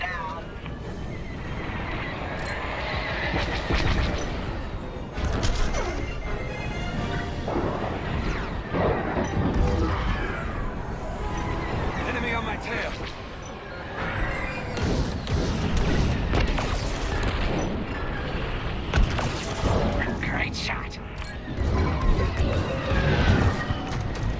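Gunfire and explosions from the space-combat video game Star Wars: Squadrons, played in VR, form a dense continuous roar of blasts and booms with a steady loud rumble throughout. Voices talk intermittently over the battle.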